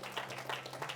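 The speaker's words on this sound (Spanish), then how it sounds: "Vamos a darle ese aplauso a Cristo" A church congregation claps during a service, a short burst of many hands applauding in a steady patter, fairly quiet and heard alone.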